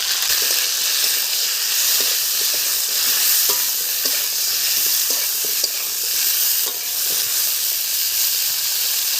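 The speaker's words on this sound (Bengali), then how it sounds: "কড়ায় তেল দিয়ে দিলাম তেল গরম হয়ে গেছে ফুলকপিগুলো তুলে দিলাম" Cauliflower pieces fry in hot oil in a wok, a loud continuous hiss and sizzle with scattered pops and stirring clatter throughout, no voices.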